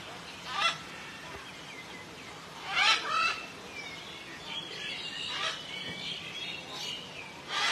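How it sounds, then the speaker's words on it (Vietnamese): Parrots at the Phu Quoc Safari zoo let out several loud, harsh squawks at irregular intervals, some close and some farther off, over a steady outdoor background. "Vẹt."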